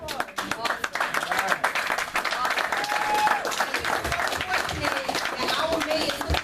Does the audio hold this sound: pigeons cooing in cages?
no